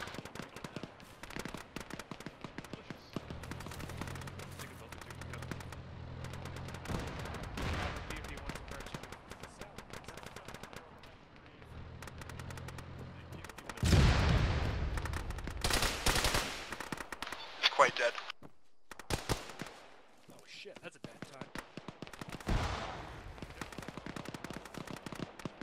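Bursts of gunfire in a tactical military video game, with sharp loud shots in the middle and scattered distant cracks elsewhere, over a low engine hum.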